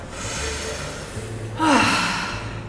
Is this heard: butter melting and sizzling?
no